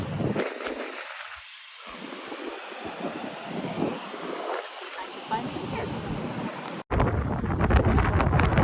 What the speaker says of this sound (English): Still windy here.